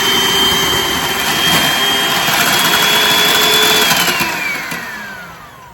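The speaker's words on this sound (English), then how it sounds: "we're just going to do it with the hand mixer" An electric hand mixer beats heavy cream with powdered sugar, a loud, steady motor whine holding a constant pitch before slowing and fading as it is switched down.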